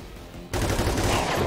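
A sudden burst of automatic gunfire erupts in XCOM 2 after a quiet stretch. It is loud, dense and continuous to the end, with no talking over it.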